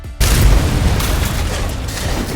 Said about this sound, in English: Moose was finally blown to smithereens when Chappie flicked the switch.